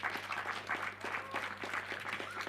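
An audience at a union general assembly applauds, with steady overlapping claps at moderate volume filling the short stretch.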